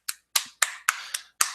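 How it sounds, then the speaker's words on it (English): Six sharp, separate hand claps spaced unevenly about a quarter second apart, each a crisp close slap with a short decay, in a slow, polite golf-clap rhythm with silence between. "Golf clap for you"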